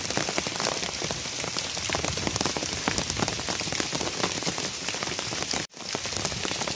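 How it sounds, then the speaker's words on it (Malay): Heavy rain pours steadily over a garden plantation, a dense, loud, unbroken hiss of drops with no voices, broken only by one brief dropout near the end. "Makin balat hari hujan nempeng."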